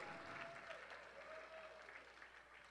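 Wedding guests clapping at a reception, a steady, moderately faint round of applause with a faint tone and murmured voices running underneath.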